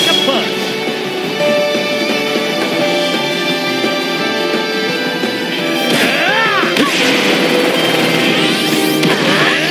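A special shot kick in the soccer video game Inazuma Eleven Victory Road, with loud, dense blasting, booming impacts and whooshing effects layered over game music and continuing for several seconds.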